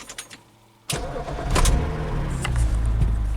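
A BMW Z4 engine cranks and fires, then settles into a steady idle that runs on close by after a few quieter clicks and knocks.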